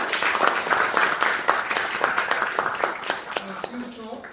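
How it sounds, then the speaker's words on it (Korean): Steady applause from an audience welcoming panelists at a public hearing, many hands clapping together, fading out near the end as a voice begins. "환영의 박수를 쳐주시면 고맙겠습니다"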